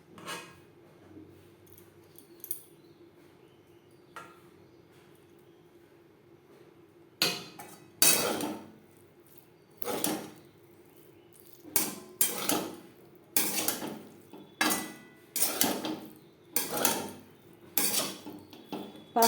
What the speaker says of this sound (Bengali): পাস্তার সাথে সস বেশ ভালো করে মিক্স করে দেব।